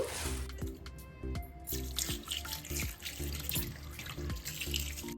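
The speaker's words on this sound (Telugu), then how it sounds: "ఫస్ట్ అయితే మనం ఈ ఆకులు నీట్గా కడిగేసుకుందాం" Ajwain leaves are rinsed under a running kitchen tap, water splashing and gurgling into a sink with irregular drips and sloshes, close and steady, with no talking.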